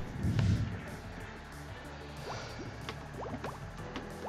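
Water in the video game Bopl Battle gives a splashy burst followed by a run of small drips and bubbly blips, faint and scattered against a low background.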